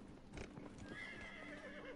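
A horse in the video game Dragon Age Inquisition whinnies over soft hoof clip-clop, a short rising neigh at moderate distance with no voices.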